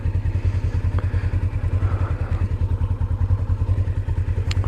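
Motorcycle ridden steadily around a roundabout, its engine a low, even, pulsing drone that stays close and constant throughout with no talking.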